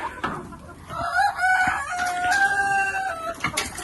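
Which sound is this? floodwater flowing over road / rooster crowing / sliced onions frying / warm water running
rooster crowing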